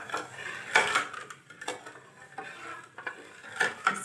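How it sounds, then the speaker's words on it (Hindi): Sugar being stirred into milk with a spoon in a pot for suji and egg halwa, a series of soft scraping, clinking strokes with short pauses, close and alone without talk. "ये दूध में हम इसको चीनी को मिक्स कर लेंगे"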